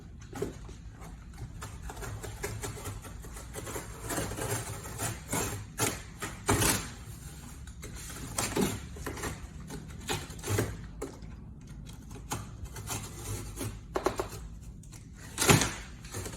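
Knife or cutter slicing through the corners of a cardboard vanity box, heard as scattered scraping and tearing strokes with occasional sharper cracks and thuds, moderately close and without talk.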